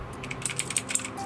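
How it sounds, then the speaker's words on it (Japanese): Quick, light key presses on an ASUS X205TA laptop keyboard, a short burst of about eight crisp clicks in an uneven typing rhythm, close and clear over a quiet room hum. "キーボードで打ててるんで"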